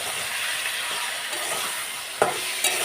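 Potatoes stir-fry in a pan with salt, tomato, cumin powder, chili paste, ginger paste and turmeric, giving a constant close hiss and sizzle with a couple of sharp utensil scrapes near the end.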